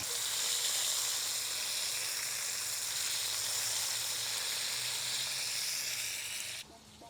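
Potatoes cook on an outdoor grill, giving off a steady, even sizzle and hiss that holds unchanged for several seconds before cutting off abruptly near the end.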